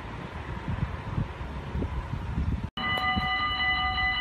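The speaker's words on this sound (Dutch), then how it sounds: "Dat is deze trein." A train passes in Geleen, a steady rumbling rush under wind noise, then after a brief cut a closer, louder passage with bright sustained tonal whine from the wheels and motors, no talking.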